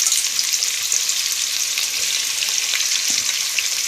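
Onions frying in hot oil for a soya chaap veg biryani, a loud, dense, continuous sizzle with no break throughout.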